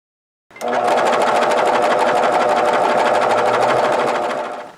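A serger overlocker machine starts up and runs at a fast, steady buzzing chatter for several seconds before easing off at the end.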